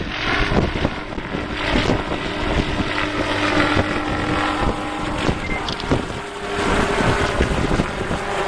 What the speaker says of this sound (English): Here's the turn at Colic Bay, the wind buffeting them.